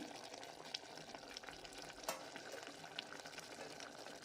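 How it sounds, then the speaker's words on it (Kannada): Tomato-and-masala base for a mushroom biryani fries in a pan with coriander and mint, giving a steady low sizzle with a few soft stirring scrapes and one sharper clank, fairly faint throughout with no voices. "ಟೊಮೊಟೊ ಸಾಫ್ಟ್ ಆಗೋ ತನಕ ಫ್ರೈ ಮಾಡ್ಕೊಳ್ಳೋಣ."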